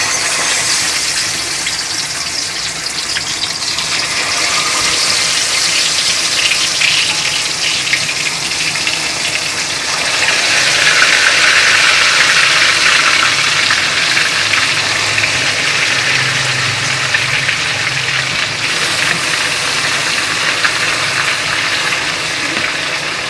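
Chicken frying in boiling oil gives a loud, continuous sizzle and crackle that grows stronger after about ten seconds and carries on unbroken, with no one talking.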